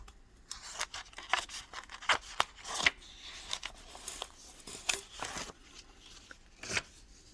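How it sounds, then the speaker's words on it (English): Paper slides and rustles out from behind a pane of glass during glass painting, a series of soft scraping swishes and crisp rubbing strokes, close and fairly quiet. "I'm going to take my paper out from behind."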